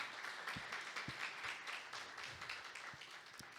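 A church congregation applauds the Lord, a faint, distant wash of clapping with a few sharper individual claps standing out.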